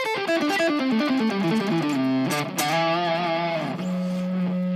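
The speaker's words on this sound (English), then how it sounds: "when you really crank the gain, it can kind of feed back into itself" A smart guitar played through its built-in speaker at high gain with delay and reverb, distorted chords giving way to sustained, ringing feedback tones that swell and hold, loud and close, with no voices.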